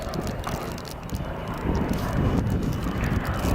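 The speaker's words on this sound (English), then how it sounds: "Wing over, very useful, letting him keep the speed up, in fact building the speed, building the energy with the aircraft, even with 400 horsepower." A 400-horsepower Bristol Blenheim's piston engine drones steadily through a wing over at an air display at Bicester, loud and continuous, swelling slightly as speed builds, with some wind buffeting on the microphone.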